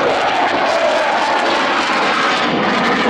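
A MiG-29 jet fighter roars past at an air show, its engines producing a loud, sustained broadband rush that stays powerful and steady throughout, with no talk over it.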